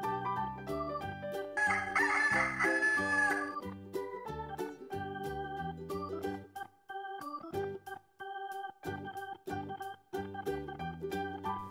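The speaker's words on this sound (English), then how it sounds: "rooster" Rooster crowing in a farm animal sounds lesson for children, heard over loud, steady backing music that fills the whole clip.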